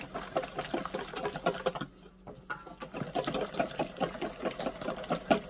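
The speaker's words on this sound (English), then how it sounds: "make sure you whisk it up really good because you don't want any lumps" Quick, steady whisking of a flour batter in a bowl, a fast rhythmic ticking and patter with a brief pause partway through, close and fairly loud.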